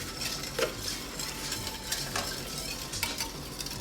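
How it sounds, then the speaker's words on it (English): A whisk stirs pectin into hot blackberry juice in a pot for homemade jam, giving a steady scraping, swishing rattle against the metal with faint sizzling underneath, close and continuous, no voices. "we're going to just whisk it in."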